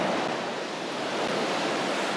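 Ocean waves wash steadily onto a beach on an early winter morning, a continuous broad surf roar with light wind and no distinct breaks or voices.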